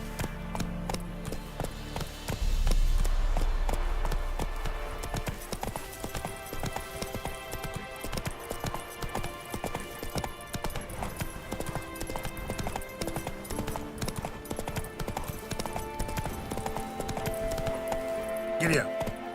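Horse hooves in The Witcher 3 video game beat out a fast, steady clip-clop gallop that carries through the whole stretch, loud and close, after a brief low rumble at the start.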